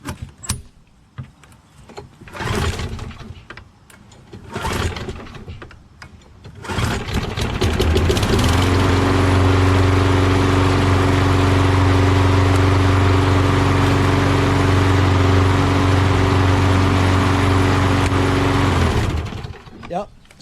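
A Craftsman lawn mower with a 6HP Quantum engine and a faulty self-propel drive belt starts after a few clunks and pulls, then runs at a loud, steady drone close by before cutting off.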